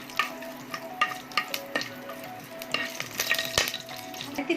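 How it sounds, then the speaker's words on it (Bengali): Bay leaf, cinnamon, green cardamom and cloves frying in hot oil for Bangladeshi chicken rezala, a close crackling sizzle with intermittent metallic clinks and scrapes from stirring in the pan. "দেখতে পাচ্ছেন আমার তেলটা গরম হয়ে এসেছে। এখন এর মধ্যে কিছু পরিমাণ মশলা অ্যাড করব।"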